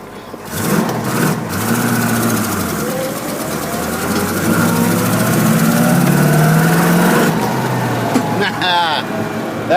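Traffic passes while driving an AMC AMX with a 4-speed, engine drone and road rumble heard from inside the car, with rising and falling tones from nearby vehicles and someone talking over it.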